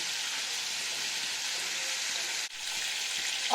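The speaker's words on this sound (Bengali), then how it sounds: "একটু তেলে হালকা যতটুকু জল বেরোবার আগে অব্দি একটু ভাজা ভাজা মতন করে দেব" Ridge gourd pieces fry in a little hot oil, giving a steady, close, bright sizzle that hisses on without a break, with one brief dip near the end.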